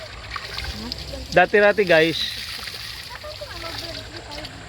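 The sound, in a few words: spring water flowing and splashing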